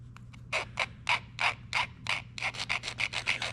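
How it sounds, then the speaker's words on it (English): A hand file scrapes across a stainless steel rod from a fuel sending unit in a series of rhythmic rasping strokes, about a dozen, quickening toward the end, close and clear with no talking. "So the first thing I'm going to do is just take a file."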